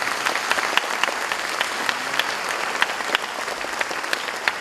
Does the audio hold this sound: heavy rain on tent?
no